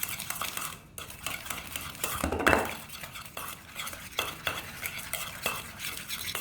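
Spoon stirring dry ingredients (flour, baking powder, sugar, salt, cinnamon, ginger, nutmeg) in a mug for a gingerbread mug cake, a close, continuous scraping and clinking with one sharper clatter midway.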